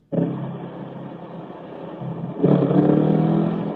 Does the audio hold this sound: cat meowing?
no